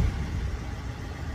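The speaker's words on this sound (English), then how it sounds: "As soon as it goes out, the engine is ready to be started." A van engine runs at a steady, rumbling idle, a constant low drone close by with no talking.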